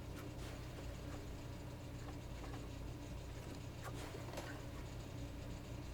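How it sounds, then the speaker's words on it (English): Quiet layer of piano mechanical noise, pedal thumps and room ambience without the main notes, a soft steady hiss with scattered faint clicks and knocks. "you can actually leave on the ambient and the pianist and the mechanical and pedal sounds"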